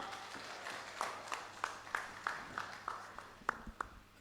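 Applause from a conference audience, a faint, steady patter of many hands with distinct individual claps ringing out at irregular intervals across the whole stretch.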